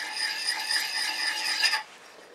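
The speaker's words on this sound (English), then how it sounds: "Now I'm going to take off that burr created by the grinder" Steel negative rake scraper having its coarse grinder burr rubbed off, a steady close rasping scrape lasting under two seconds, then stopping abruptly into quiet.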